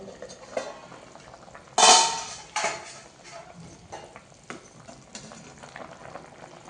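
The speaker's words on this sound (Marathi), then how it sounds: "आता आपण मंद आचेवर ही भाजी शिजत ठेवू इथे मी झाकण ठेवते" Potato and pea curry cooks in a pot with a lid set on it, a soft steady simmer broken by a loud metallic clank of the lid about two seconds in and a few lighter clinks afterward.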